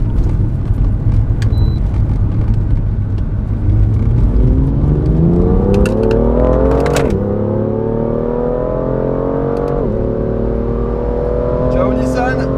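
A BMW M2 in sport plus mode accelerates hard on the road, its engine note climbing steadily through the gears with two clear upshifts, loud and close throughout, with light talk over it.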